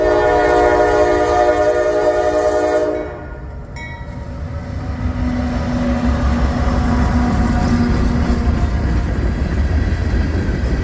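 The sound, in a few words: Norfolk Southern mixed freight train passing eastbound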